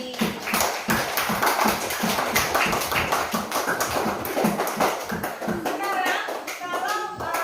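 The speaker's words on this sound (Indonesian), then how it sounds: "tepuk tangan dulu" Children in a primary school classroom clap together in a quick, steady rhythm, a loud run of rapid claps lasting several seconds, with a voice speaking near the end.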